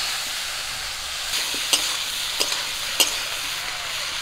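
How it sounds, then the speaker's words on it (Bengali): Pumpkin pieces fry in a pan, giving a constant hissing sizzle that sits close and fairly loud. Several sharp spatula scrapes and clacks land across the second half as the pieces are stirred. "কুমড়োগুলো আমি খুব ভালো করে ভেজে নিচ্ছি।"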